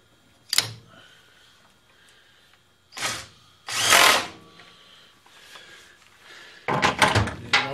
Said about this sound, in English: Put our drill chuck in.